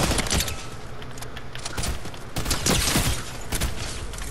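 Gunfire in Fortnite crackles in dense, rapid bursts of shots, loud and close, continuing almost without pause across the whole stretch with no one speaking.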